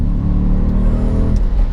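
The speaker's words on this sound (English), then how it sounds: "That V8 rumble behind you as well." A 2006 Audi RS4 B7's naturally aspirated V8 in a manual saloon gives a deep, steady rumble from close by, loud and unbroken throughout with no voices.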